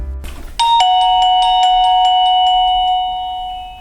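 The external plug-in ringer box of a Reolink WiFi video doorbell sounds a loud, clear electronic chime, a series of bright ringing tones that sustain and slowly fade, heard close with no talking.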